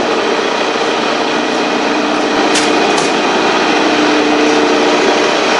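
A 1760 RPM electric motor drives a Lima drive in first gear, a loud, steady, close mechanical whir and hum with two faint ticks partway through and no talking.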